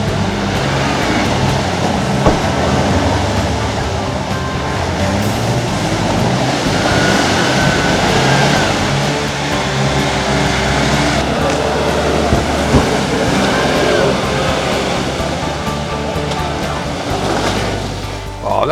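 Nearly stock Nissan GQ Patrol 4WDs without lockers or big tyres driving off-road through Wombat State Forest, a continuous loud rumble of engines and rough terrain with voices talking over it.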